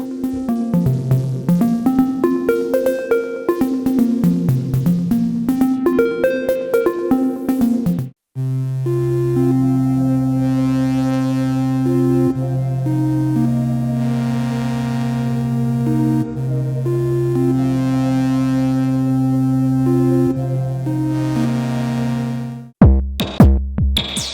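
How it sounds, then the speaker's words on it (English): Soft tones from a Uno Synth Pro analog synthesizer: a rippling arpeggio rises and falls, then gives way to smooth sustained chords that hold and shift gently before cutting off. "While this synthesizer does excel at gnarly bass sounds and big bombastic sounds, it can also be gentle."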